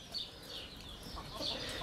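Egg-laying hens, including green-egg layers, cluck softly in a coop, a steady low chatter of overlapping calls at moderate distance with no talking.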